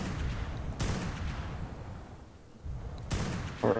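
Gunfire in the video game ARK Survival Evolved: two sharp, distant-sounding shots about two seconds apart, each trailing off over a low, steady background.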